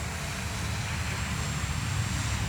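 Dancing Wings Fi156 Storch RC model airplane, a 1600 mm balsa build, climbing under power with slats out, its propeller hum steady and moderately distant, a continuous low drone with a faint airy hiss.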